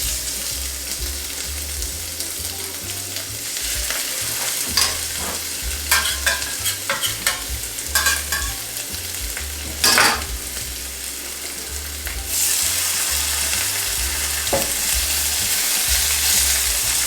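Seitan pieces fry in hot oil, a loud steady sizzle broken by bursts of clattering and scraping as they are stirred and moved, then the hiss swells louder and fuller toward the end.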